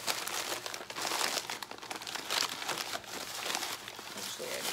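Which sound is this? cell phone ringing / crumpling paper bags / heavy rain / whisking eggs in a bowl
crumpling paper bags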